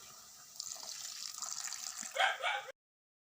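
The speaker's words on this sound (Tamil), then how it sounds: "தண்ணி ஊற்றணும்." Water being poured into a pan of spiced masala while cooking, a steady splashing stream that builds, surges near the end and cuts off abruptly.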